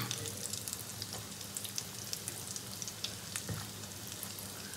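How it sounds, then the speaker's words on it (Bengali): Fish chops fry in oil over a low flame, giving a dense, continuous crackling sizzle with a soft low hum underneath and tiny pops scattered throughout. "লো ফ্লেমে কড়া করে ভেজে নেব"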